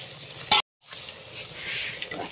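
Spiced water goes into a pan of sizzling small mola fish chorchori with eggplant. A sudden loud hiss bursts up, cuts off briefly, and then a steady close sizzle resumes and continues.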